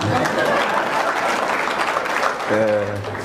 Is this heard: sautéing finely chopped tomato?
no